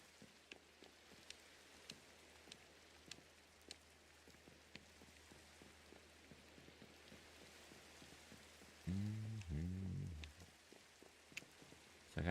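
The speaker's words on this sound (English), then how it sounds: "I don't like this rain." Steady rain falling in Minecraft: Java Edition, a soft, constant patter of many small drops with scattered louder ticks, faint and even throughout, with a brief louder muffled noise near the end.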